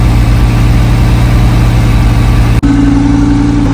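Lamborghini engine running near the exhaust, a steady loud low rumble that holds unbroken for nearly four seconds, with a brief dropout followed by a slightly shifted drone.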